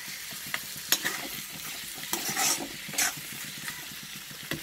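Chicken frying in coconut oil for a spicy kanthari chicken dish, a steady close crackling sizzle with frequent bright spatters and occasional stirring knocks, no voices.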